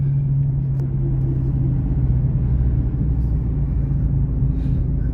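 Dodge Challenger Widebody Scat Pack on a test drive, a steady low engine rumble and road drone heard from inside the car, loud and constant throughout, with no speech.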